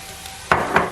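Onion, garlic and carrots sauté in a Dutch oven, a soft sizzle broken by two quick scraping stirs of a utensil against the pot, close and without talk.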